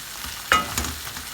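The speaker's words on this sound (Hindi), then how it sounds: "अच्छी तरह हमने भूनते जाना है।" Spiced masala with tomato and green chili paste frying and being stirred in a pan, a steady soft sizzle with one sharper scrape of stirring midway, fairly close and with no talking.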